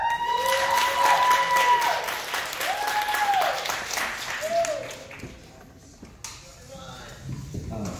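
Audience applause for a previous act at a live music show, dense clapping that swells early with whistles and cheers, then fades out partway through into quieter room noise.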